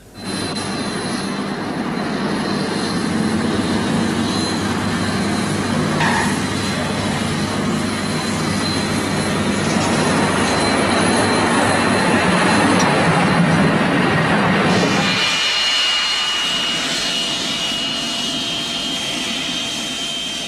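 A passenger jet landing on a flight from London to Bergen gives a loud, sustained engine roar with high whining tones that drops away sharply near the end, leaving a quieter background.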